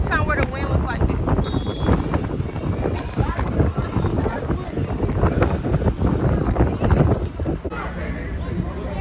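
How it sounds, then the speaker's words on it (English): Strong wind buffets the microphone in a continuous loud roar, with people talking underneath throughout. "No way the wind is going this crazy."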